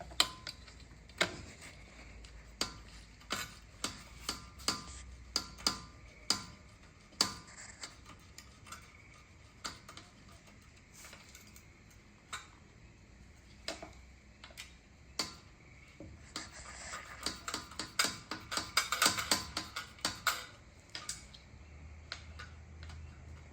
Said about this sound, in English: So first we're going to start by taking off the 10mm bolt on this side.